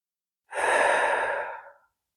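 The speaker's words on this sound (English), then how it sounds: "Deep breath in." A single deep inhale during a gentle beginner yoga session, one smooth breath lasting over a second, close and fairly loud, alone with no talking.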